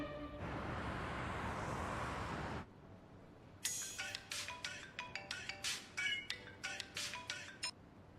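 A mobile phone ringtone in a Hindi-dubbed drama plays a bright run of chiming electronic notes in quick rhythmic bursts, coming after a few seconds of steady hiss.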